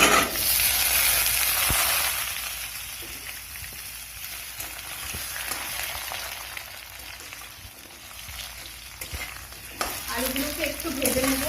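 Cut potatoes hit hot oil already seasoned with dried chili, a bay leaf and whole cumin for a cucumber and prawn curry, setting off a loud hiss that settles into steady sizzling. A utensil clacks occasionally, and a voice speaks briefly at the end.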